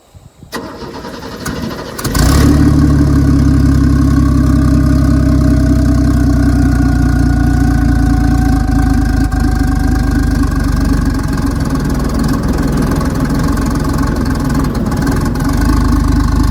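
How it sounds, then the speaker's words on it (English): A turbocharged 1964 Chevrolet Biscayne engine running on 100LL airplane fuel cranks and catches, then settles into a loud, steady, close idle with a continuous rumble and a faint high whine over it. "It only starts doing that when the turbo starts to spool up at idle"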